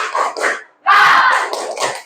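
A school class does a group spirit clap, loud close bursts of rhythmic clapping mixed with shouted voices in short phrases, a brief pause, then a longer energetic stretch.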